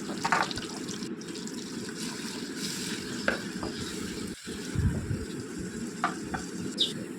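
Onions and green chillies frying in oil in a clay pot, a continuous sizzle with scraping stirs and occasional clinks, heard close and moderately loud without speech.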